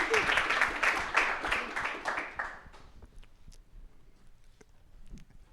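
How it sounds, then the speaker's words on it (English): Audience applause for an award winner at an AI innovation event, a burst of close clapping that fades after a few seconds into sparse scattered claps. "a round of applause"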